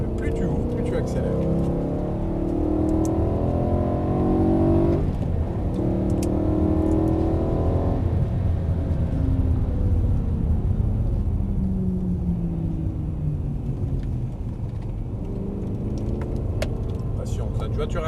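BMW M3 E92 V8 on a race track, engine loud and close as it pulls hard through the gears, pitch climbing repeatedly with a brief drop at each shift, while a voice talks over the engine noise.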